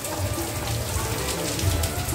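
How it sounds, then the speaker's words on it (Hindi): Heavy monsoon rain pouring steadily outdoors, a dense continuous hiss of drops on surfaces with no clear pauses. "आप लोग देखो कैसे जोर से बारिश हो रही है"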